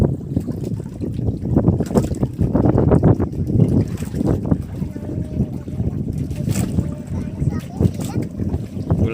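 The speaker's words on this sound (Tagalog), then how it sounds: "Lakas ng hangin." Strong wind buffets a microphone aboard a boat on open water, gusting in loud rough bursts with splashing under it while people talk nearby.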